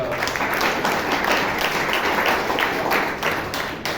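A Toastmasters meeting audience claps steadily and densely for about four seconds, a continuous wash of many hands with no voices standing out.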